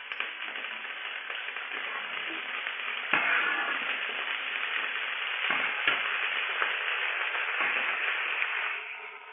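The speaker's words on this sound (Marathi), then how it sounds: "आता मी ही चांगली ढवळून घेते." Broccoli bhaji sizzles loudly and continuously in a pan while it is stirred, with a few sharper knocks and scrapes breaking through the dense frying hiss. No one speaks.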